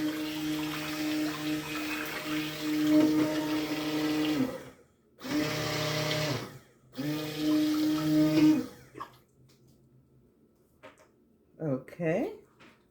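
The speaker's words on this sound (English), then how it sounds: "So I'm going to mix that up, give it a stir." Liquid is stirred with an electric mixer into an oat milk soap base, a steady whirring drone in several bursts broken by short pauses, trailing off into quieter handling and splashy sounds.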